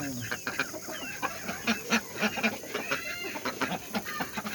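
Chickens on a poultry farm clucking repeatedly in short, uneven bursts at moderate distance, with a few faint voices in the background.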